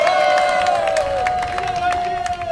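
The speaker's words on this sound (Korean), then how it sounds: "멋진 공연 보여주신 최민아 청년에게 다시 한번 큰 박수 보내주시기 바랍니다." A crowd at an outdoor protest rally in a city hall plaza claps and cheers after a performance, a dense burst of applause under a sustained musical tone.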